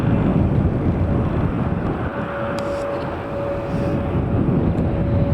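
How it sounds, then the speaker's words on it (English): Finnair Airbus A319 arriving from Helsinki and coming in to land at Manchester Airport, a loud continuous jet roar with a steady whine, heard from nearby. "And also just coming into land now is a Finnair."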